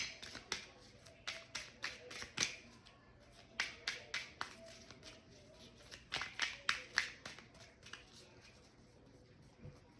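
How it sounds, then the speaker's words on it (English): Tarot cards being shuffled by hand at close range, a string of crisp riffling and tapping bursts clustered in quick runs with short pauses between, no talking over them. "It's not that easy to shuffle, but we're going to do it."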